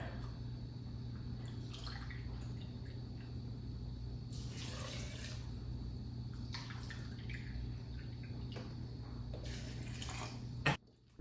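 Spring water pours into a Ninja Bullet blender as a soft, steady trickle with intermittent splashy bursts, ending in a short clunk close by.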